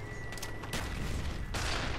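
Gunfire in Black Ops 1 crackles through a dense, rumbling battle mix, with sharp bursts of shots and booming impacts layered close together over about two seconds.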